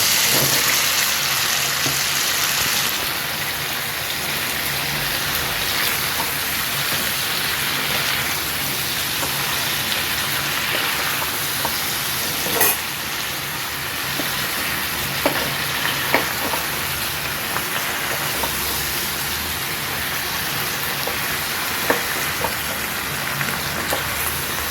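Vegetables fry in a pan for a Bengali katla fish curry, giving a loud, dense, rain-like sizzle that runs continuously throughout, with a few faint stirring clicks near the end and no voices.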